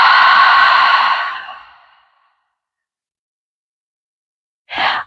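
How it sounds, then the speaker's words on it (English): Deep cleansing breaths during a yoga session: a long, loud exhale fades out over two seconds, then silence, then a short, sharp breath begins at the end, close to the microphone. "We want to get fresh new air in and cleansing breaths out."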